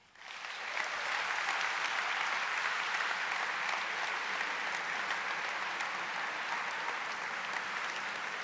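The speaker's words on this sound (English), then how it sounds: "the longer you clap, the less time we will have" Sustained applause from an audience at a public conversation event on empathy and politics, a dense, steady wash of clapping that swells quickly and holds loud for the full length without a break.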